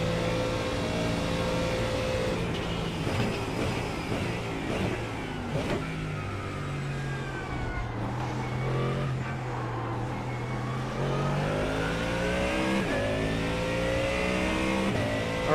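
A Ford Mustang GT race car in an iRacing GT endurance race roars loudly and continuously, its engine note rising and falling through repeated upshifts and downshifts.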